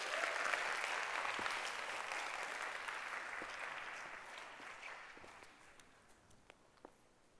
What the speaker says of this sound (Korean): 박수 한번 크게 주시면 여러분들 시작하겠습니다